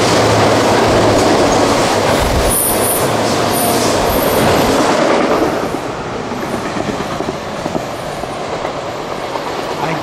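CSX freight train with a DPU locomotive passing close by in the rain, a loud steady rumble with rhythmic clickety-clack of wheels and brief high squeals, easing slightly toward the end.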